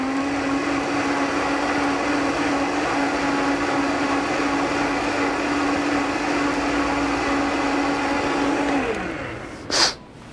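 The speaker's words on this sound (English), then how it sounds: "I'll throw it in the Vitamix, give it a spin, and we'll see where we're at." A powerful Vitamix blender spins at a steady high whine for about nine seconds, loud and close, then winds down abruptly, followed by a short clunk.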